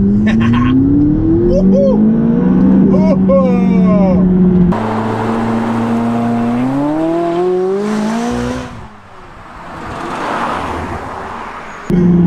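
A McLaren 570GT supercar drives by, its engine revving and rising in pitch, then accelerating hard again before fading off; people talk over parts of it.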